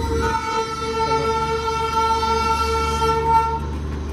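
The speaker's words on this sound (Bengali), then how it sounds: "এখানে আসতেই দেখছি টয় ট্রেন আসছে।" A Darjeeling toy train's sustained horn tone sounds loud and steady throughout, with a low rumbling engine underneath as it passes close by.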